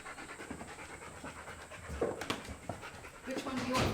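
A dog pants softly in rapid, rhythmic breaths on a first visit to a new house, the sound quiet and close. A few brief bumps and a louder stretch near the end break into the panting.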